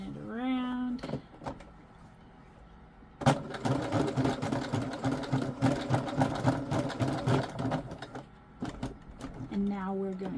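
A sewing machine stitches through the wool of a kilt, running in a long steady burst of rapid needle strokes after a pause, then stopping; a voice talks before and after the stitching.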